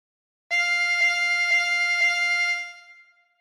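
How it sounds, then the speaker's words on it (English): A harmonica draws on hole 9 four times, giving four evenly spaced, articulated pulses on a single bright sustained note. It then tapers off into silence, close and alone. "Breathe in through 9 4 times."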